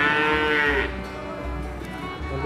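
Cattle moo loudly and close by at a livestock farm, a long lowing call in the first second followed by lower, sustained bellows, with no talk over it.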